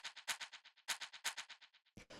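Clean shaker sample from an organic electronic track, shaking in a steady, fast rhythmic pattern of bright rattling bursts with accented strokes, heard up close and alone.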